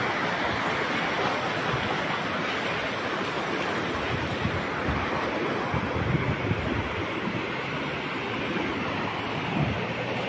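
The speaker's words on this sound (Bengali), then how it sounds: "অনেক বড় বড় ঢেউ উঠতেছে" Big ocean waves break and roar on the beach at Kuakata, a continuous loud surf wash with strong wind buffeting throughout.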